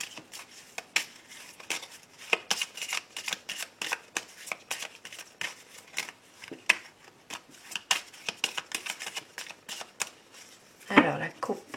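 Tarot cards shuffled and cut by hand, a steady run of quick, crisp riffling snaps over nearly twelve seconds, close and moderately loud, ending with a heavier shuffle burst.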